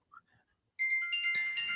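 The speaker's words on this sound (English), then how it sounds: "That was my phone going off saying what's doing." A mobile phone goes off with a notification ringtone, a bright sustained electronic tone that starts abruptly after a near-silent gap and carries on steadily, fairly loud and close, with no talking over it.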